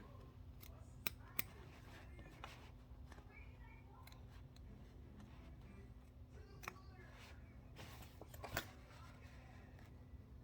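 Scissors with dulling tips snip slits in sewing fabric near a seam in a run of crisp, irregular cuts, close by, with a few sharper clicks and faint background hum.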